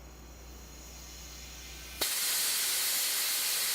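A leaking pressure relief valve that has not fully reclosed suddenly bursts into a loud, steady, broadband steam hiss, following a quieter low hum, and continues unbroken to the end.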